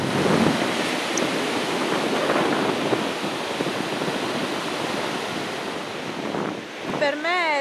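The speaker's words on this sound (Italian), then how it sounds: "ascoltare il rumore delle onde" Sea waves break and wash continuously onto a sandy shore on a November afternoon beach, a steady loud surf roar with wind buffeting the microphone, fading near the end as a faint warbling sound appears.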